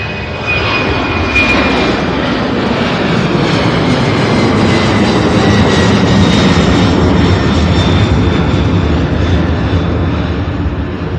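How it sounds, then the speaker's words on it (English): A jet airplane takes off at SDF airport, a loud, steady roar of engines building and sustained throughout, broad and rumbling with a faint whine riding on top, no talking over it. "Look, oh, we got a takeoff."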